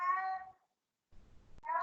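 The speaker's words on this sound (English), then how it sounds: "Whose cat is this?" A cat meows twice, close and clear, with a short quiet gap between the two calls.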